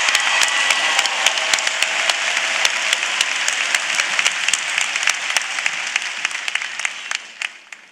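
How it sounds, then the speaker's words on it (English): A commencement audience at a university ceremony gives loud, sustained applause with sharp individual claps scattered through it, tapering off at the end. "Please recognize her and the excellence she represents with your applause"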